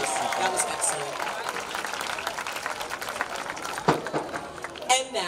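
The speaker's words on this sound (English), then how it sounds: "Please give our Mayor one more round of applause" Graduation audience applauding the mayor, a dense steady wash of clapping with scattered cheers and a few louder bursts near the end.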